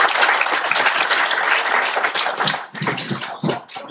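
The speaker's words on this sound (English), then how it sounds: "Please join me in extending a warm welcome with a big round of applause" Audience applause welcoming a speaker at a university open house, a dense wash of many hands clapping together that thins and grows uneven toward the end.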